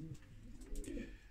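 Racing pigeons give soft low coos, faint and close, in a short burst with light background noise from the loft.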